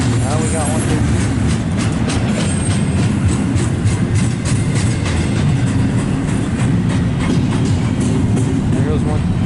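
A long train rolls steadily past close by on a cold, frozen evening, its constant low rumble and rail clatter filling the whole stretch with only faint voices underneath.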